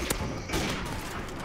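Gunfire in a Call of Duty Modern Warfare Remastered free-for-all match on the Shipment map: a sharp shot opens, then a second burst of loud gunfire and thuds rings out amid game noise.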